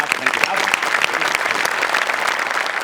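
Studio audience at a Marathi television comedy show claps in a loud, steady burst of applause, dense and continuous throughout.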